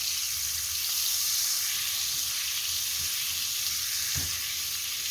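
Two spoonfuls of butter and two of oil melt and sizzle together in a pan, a steady close frying hiss throughout with a brief soft clink near the end.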